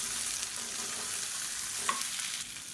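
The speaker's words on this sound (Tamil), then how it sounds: "அதை நல்லா எண்ணெயில் வதக்கிக்கலாம்." Chopped beans sautéing in oil, a steady soft sizzle with faint stirring, one small clink of a utensil partway through.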